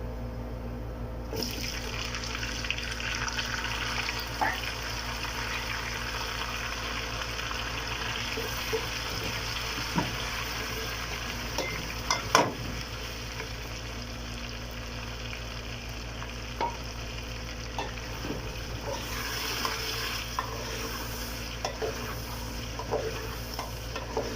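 Chicken sizzles and fries in a pan with ginger garlic paste, a steady close crackle with occasional stirring clinks, no talking.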